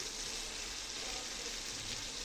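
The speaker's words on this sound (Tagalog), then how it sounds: "side muna natin, pakuluin natin ang kamatis," Tomatoes simmering and sizzling in a pan while cooking for batchoy, a steady soft bubbling hiss that holds evenly throughout with no talking.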